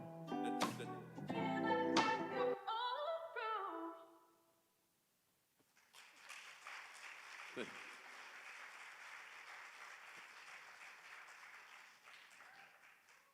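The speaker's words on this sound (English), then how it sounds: "it's my daughter saying woo over there" Music ends with a sung phrase, then after a short pause a concert audience breaks into steady applause, with a brief cheer rising from one spot near the start of the clapping.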